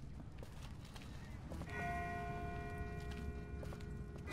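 A single distant bell in The Walking Dead game rings out with a clear sustained tone that lingers and slowly fades, over soft footsteps and low ambient rumble.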